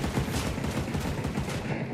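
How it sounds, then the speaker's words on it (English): Rapid, dense burst of automatic turret fire in the video game Ghost Recon Breakpoint, sustained and loud for about two seconds with no talking over it. "That is a turret."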